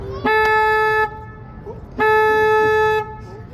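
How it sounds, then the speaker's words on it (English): Two long, loud blasts of a river boat's horn, each about a second, separated by a short pause, sounded as a warning for cross traffic; close and piercing over faint background noise. "Now, just in case there's any cross traffic here, I have to honk the horn."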